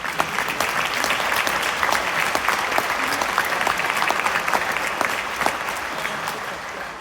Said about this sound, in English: I'd like to have you give her a round of applause